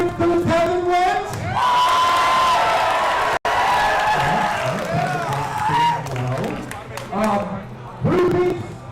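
A live event audience cheers and whoops for the Tavern Reds, a loud crowd roar that swells mid-clip after a sharp cut, with people shouting and talking over it.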